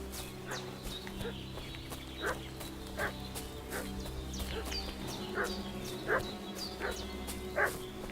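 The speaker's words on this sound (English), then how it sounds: "What's that dog making such a fuss about?" Dog barking in the medieval game Kingdom Come: Deliverance, several separate barks spaced irregularly over a steady low ambient bed, moderately distant and not loud.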